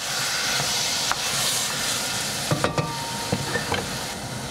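Chicken and mixed vegetables stir-fry in an oiled pan, giving a loud, close, steady hiss, joined in the second half by a cluster of sharp utensil clacks against the pan.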